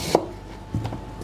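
A knife cuts peeled kohlrabi into sticks, giving two crisp, close chops about half a second apart on a cutting board, with quiet pauses around them.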